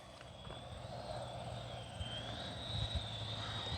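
An FMS F-16 Falcon 70mm electric ducted-fan RC jet whines steadily overhead as it comes in to land, a thin rising and falling turbine tone over broad wind-like hiss, moderately distant with no talking.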